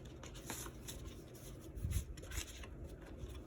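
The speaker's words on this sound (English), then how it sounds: "So let me just shuffle these cards." Tarot cards are shuffled by hand at close range, a faint, soft run of rubbing and riffling card noise that swells briefly near the middle, with no talking.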